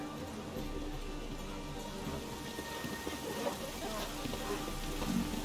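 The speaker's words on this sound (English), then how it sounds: "And it's raining again." Steady rainfall in The Witcher 3 hissing softly at a distance, a constant wash of drops with a faint low rumble underneath and no talking.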